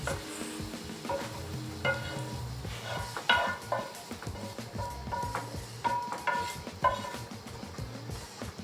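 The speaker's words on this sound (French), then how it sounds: "On mélange la farce." A spoon stirs a squid stuffing of quinoa, onion, garlic, squid tentacles and chorizo in a pan, with soft sizzling under close, irregular scrapes and clinks against the pan.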